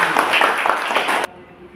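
Brief classroom applause for classmates, a crowd of students clapping in a dense wash that cuts off abruptly, followed by quiet room tone.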